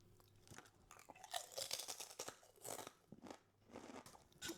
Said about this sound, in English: The crunch and the crisp is really good.